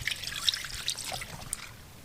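Pine-Sol cleaner poured straight from the bottle into a carburetor bath for a 1973 Johnson 65hp outboard, a close trickling, dribbling liquid stream with small splashes and drips, unaccompanied by voices.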